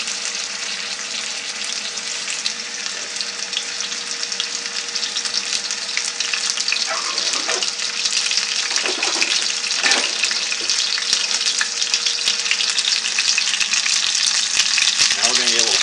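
Loud, steady sizzling of pork frying in a hot pan, a continuous crackling hiss with occasional stirring scrapes, close up and uninterrupted.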